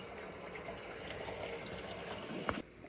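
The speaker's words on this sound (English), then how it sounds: "So what I'm going to do is just add more water." Water runs steadily from a tap into a pot of red beets for red beet eggs, a soft continuous splashing stream at moderate distance that stops abruptly near the end with a small clunk.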